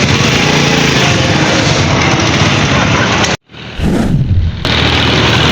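A heavy motorbike's engine runs loud and close on its first test ride, a steady broadband roar that cuts out abruptly for a moment and then resumes, with voices talking over it.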